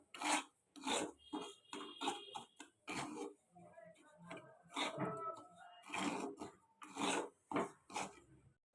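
A spoon stirs semolina with water in a pan, making close, quiet scraping strokes in a steady back-and-forth rhythm, with a brief stretch of talk partway through.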